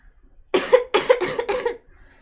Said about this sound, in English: ever since that second vaccine, I've had a little bit of a cough